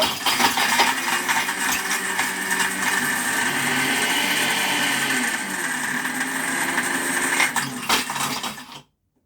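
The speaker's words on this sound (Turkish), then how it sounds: "Bir buz kırmaya basacağız." A Philips 3655 Shake and Take blender crushes ice in one loud, steady whir lasting several seconds, rattling at the start and then cutting off abruptly.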